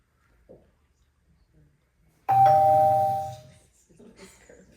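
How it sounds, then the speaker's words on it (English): A bright two-tone ding-dong notification chime signals a finished report, ringing out loud and clear for about a second after near silence, with faint background noise around it. "And you should hear a cute little ding dong when the report is ready."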